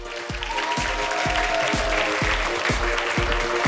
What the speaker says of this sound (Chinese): 马上要以热烈的掌声欢迎我们的表演嘉宾 Oliver